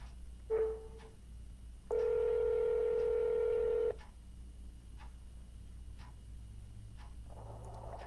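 Touch-tone keypad beeps on an automated phone line: one short tone, then a long held tone of about two seconds, over a quiet line hiss with no talking.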